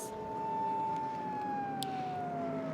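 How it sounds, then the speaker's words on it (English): Police car sirens wail continuously alongside a Super GT race car parade lap at Autopolis, a steady loud tone slowly gliding downward with engine rumble beneath. "Their sirens are on."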